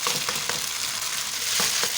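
Chicken chow mein with vegetables and pre-boiled noodles stir-fried in a hot pan, a continuous loud sizzle broken by quick scraping stirs.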